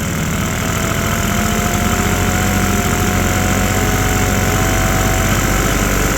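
A 1960s barn-find Vespa scooter engine idles after a carburetor adjustment, a loud, steady, close mechanical putter with a rough knocking pulse and no voices.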